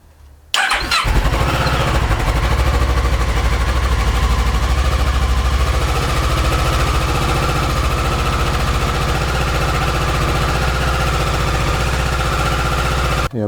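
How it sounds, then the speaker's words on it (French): A Kawasaki ER6N motorcycle engine cranks briefly and fires up, then settles into a loud, steady, close idle with a fast pulsing throb as it warms after servicing. "on va démarrer la moto pour la laisser chauffer"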